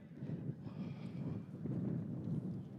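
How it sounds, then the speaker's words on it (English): Steady low rumbling wind buffets the microphone at an outdoor high school graduation ceremony, a continuous gusty roar with no voices. "It's pretty windy."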